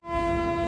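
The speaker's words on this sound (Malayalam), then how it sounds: "ഫൈനലി വടോദര ജംഗ്ഷൻ റെയിൽവേ സ്റ്റേഷനിലേക്ക് ട്രെയിൻ എത്തിയിരിക്കുകയാണ്" A train horn sounds as an express train pulls into Vadodara Junction railway station, one steady sustained blast with a rich tone over low rumble, starting abruptly and holding loud to the end.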